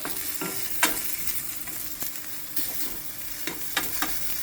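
Coriander being dry-roasted and stirred in a pan, a soft continuous sizzle broken by scraping stirs and taps of the spoon against the pan, close by, with no talk.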